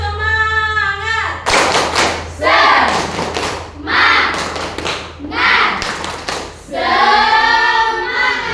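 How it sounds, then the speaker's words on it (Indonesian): A classroom of students doing the rhythmic 'tepuk semangat' clapping routine, loud bursts of group clapping and thuds in patterned sets, with a voice leading between rounds. "Ibu akan memberikan stretching, yaitu tepuk semangat"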